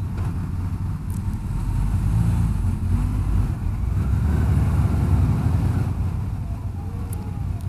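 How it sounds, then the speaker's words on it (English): A BMW G310GS motorcycle engine drones low and steady while riding, heavily buffeted by wind rushing over the microphone, with no talking. "I can barely hear the sound of the engine."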